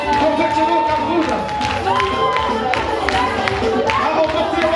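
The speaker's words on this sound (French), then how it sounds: "On l'applaudit encore bien fort." Studio audience at a Cameroonian TV show clapping and cheering steadily throughout, a dense mix of hand claps and crowd voices with a few whoops.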